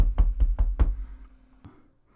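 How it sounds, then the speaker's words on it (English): Four firm knocks on a door in a quick, even rhythm, close and loud, followed by a fainter single thud before the sound fades to near silence. "then they hear a knock at the door"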